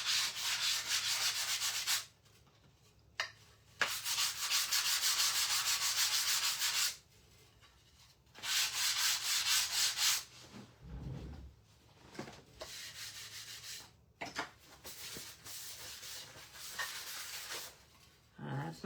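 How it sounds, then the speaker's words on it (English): A wooden sign is hand sanded with 120 grit sandpaper, giving loud, close rasping strokes in long bursts separated by short pauses, then quieter, scattered rubbing toward the end. "This is just 120 grit sandpaper."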